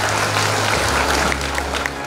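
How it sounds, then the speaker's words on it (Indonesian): A large audience at a school's centenary reception applauds, a dense, steady wash of many hands clapping throughout with no pause. "Tepuk tangan dulu."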